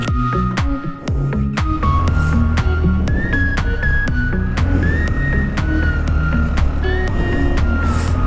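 A Benelli motorcycle engine rumbles loudly and steadily close by for several seconds on a muddy road in Bolivia, with whining tones that rise and shift as it gets moving.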